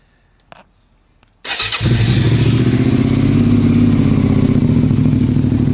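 A couple of clicks, then a 2006 second-generation Suzuki SV650S motorcycle engine cranks and catches, settling into a loud, steady, rumbling idle close by.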